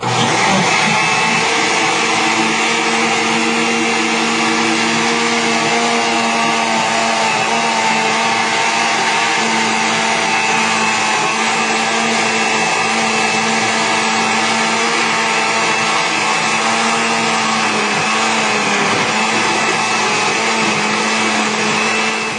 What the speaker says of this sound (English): as I start the blender